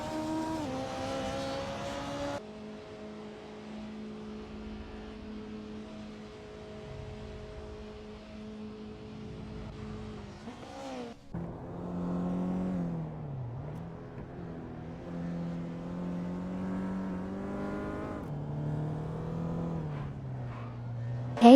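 Race cars roar through a racing video game at Autodromo Lago Maggiore GP Reverse, lap 33 of 39. Steady, loud engine whine holds and shifts pitch throughout, with a brief drop and rise near the middle as cars pass.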